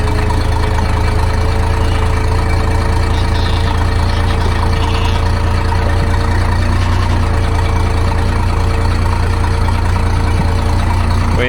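Minneapolis-Moline tractor engine idling nearby on a moist morning, a loud, even low chugging hum that holds steady throughout.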